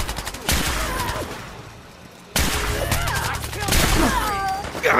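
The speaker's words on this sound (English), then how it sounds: "Accidentally shot the settler there." Gunfire in the Fallout 4 video game, with bursts of shots in two clusters separated by a brief lull, loud and close, mixed with game effects.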